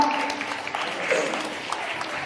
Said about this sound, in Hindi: जोरदार ताली मारो।